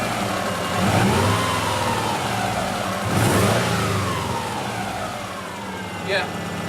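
A car engine after repair, revving in a couple of swells from a steady run, with people talking over it close by.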